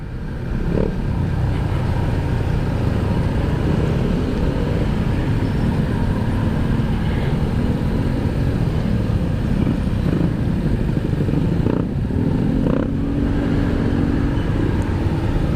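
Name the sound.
motorcycle riding in traffic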